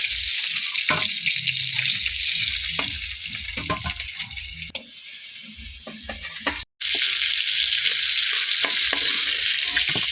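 Prawns sizzling in hot oil in a Bengali kitchen, cooked for chingri malaikari: a steady loud crackling hiss with occasional stirring clinks and scrapes, a brief drop partway through, no voices.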